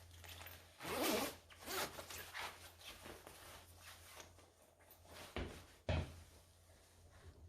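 A clothing zipper is worked in cold weather: a short zipping rasp near the start, then scattered rubbing and fabric handling with two sharp knocks later, all fairly faint.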